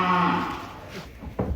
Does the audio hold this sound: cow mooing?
yes